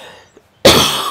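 A single sharp, loud cough from a streamer playing a golf video game, bursting out abruptly after near silence and trailing off quickly.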